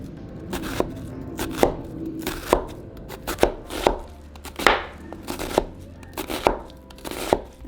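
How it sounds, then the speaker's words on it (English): A knife chops half an onion into half moons on a cutting board, sharp close taps landing roughly once or twice a second in an uneven rhythm, with no speech. "grab your onion"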